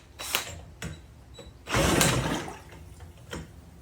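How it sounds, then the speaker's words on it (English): A drill spins the 1969 Johnson Sea Horse outboard motor in a garage, heard as several short mechanical whirring bursts with one longer, louder grinding spin in the middle. "Also gonna try to drill start it first."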